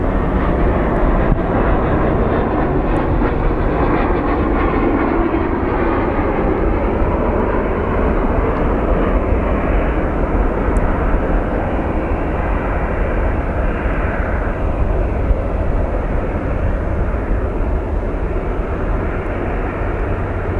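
A Cessna Citation business jet roars steadily at Phoenix Sky Harbor airport, a loud, sustained engine rumble and whine that holds for about twenty seconds with no talk.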